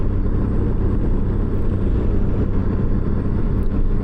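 A Honda Goldwing motorcycle is ridden on a chilly day, its engine a steady low rumble mixed with wind roar, loud and continuous throughout with no talk.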